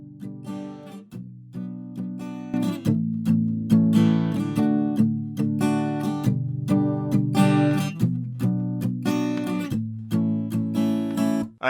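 An acoustic guitar strums the verse chords of a song, starting with a few light single notes and then settling into a steady, rhythmic strummed pattern, close and clear with no voice.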